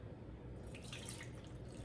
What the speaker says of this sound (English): And then I'm gonna pour cold water over it.